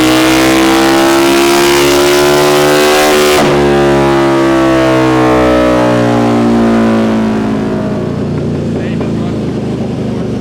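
A stock 1130cc Harley V-Rod motorcycle engine is revved hard on a dyno, with a loud, steady, close roar whose pitch climbs through the run before the engine lets off and the sound drops toward the end.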